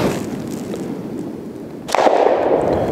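A Smith & Wesson Shield pistol in .40 S&W with a 3.1-inch barrel, firing Hornady Critical Defense 165-grain rounds outdoors. One loud, sharp report cracks out and trails into a rough rumble.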